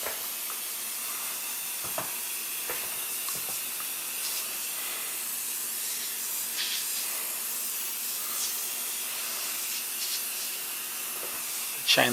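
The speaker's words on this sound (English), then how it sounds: "Spray it to clean it up." Tire foam cleaner sprayed onto a tire, a steady close hiss running the whole time with small bumps and a louder burst right at the end.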